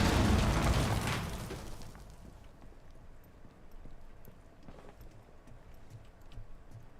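A frag grenade detonates in a tactical shooter game: a loud broadband blast at the start that rumbles and fades over about two seconds, leaving quieter background noise.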